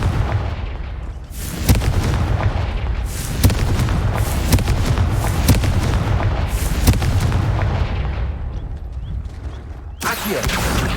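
Repeated loud blasts of the Confringo fire spell in Hogwarts Legacy, booming explosive bursts that overlap into a dense, continuous barrage with a final strong burst near the end.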